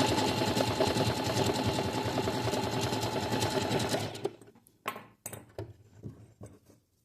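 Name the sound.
sewing machine stitching a straight seam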